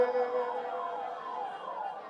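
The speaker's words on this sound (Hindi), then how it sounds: "एम्बुलेंस को निकलने दीजिए, रास्ता दीजिए एम्बुलेंस के लिए" An ambulance siren on a Delhi street with a wailing tone sweeping up and down, fairly faint and steady behind the crowd.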